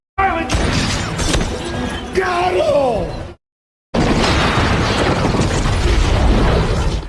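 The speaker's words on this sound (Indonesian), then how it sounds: "helikopter itu terjatuh dan terjadi ledakan di tempat itu" A chaotic film helicopter crash with crunching impacts and a heavy roaring explosion, loud and dense, broken by a brief silent gap before the roar resumes.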